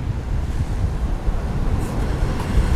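Waves and wind at Barombong beach by the bridge at the river mouth, a steady, loud rumble of surf and gusting wind buffeting the microphone, continuous and close with no voices.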